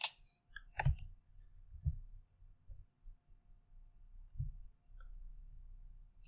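A computer mouse clicks a few times while someone works in Microsoft Word, giving quiet, isolated taps with soft low thumps and long gaps of near silence.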